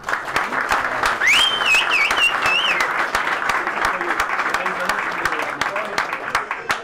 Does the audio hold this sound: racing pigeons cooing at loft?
no